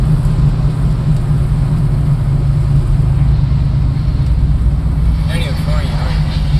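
A 1973 Ford Mustang 351 V8 Mach 1 tribute engine roars close and loud as a continuous, heavy low drone, holding steady throughout without distinct rev peaks.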